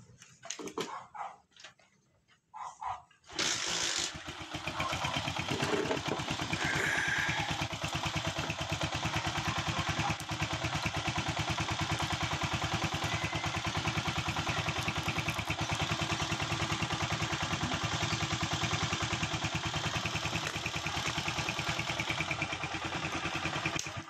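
A Honda TMX 125 motorcycle engine runs steadily after a restart, idling loud and close for about twenty seconds. A few brief knocks and clatters come before it starts.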